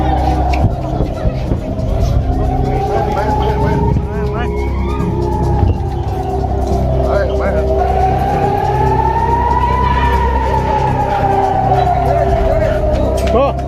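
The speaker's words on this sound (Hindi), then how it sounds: "तेल अवीव में लंबे समय तक सायरन की आवाज़ सुनी गई है।" Air raid sirens wail in Tel Aviv during a rocket attack, a long rising and falling tone cycling slowly over steady traffic rumble and faint crowd babble, loud and sustained.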